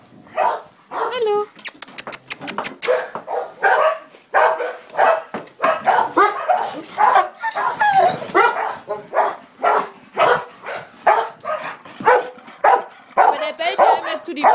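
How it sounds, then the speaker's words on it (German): A dog at a dog rescue shelter near Demmin, Germany, barks and yips at a wall repeatedly in quick, uneven bursts close by, with people talking over and between the barks throughout. "Aber der bellt ja immer zu die Wand an."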